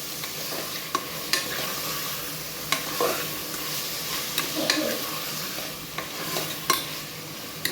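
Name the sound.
tomatoes and green chillies sautéing in a pan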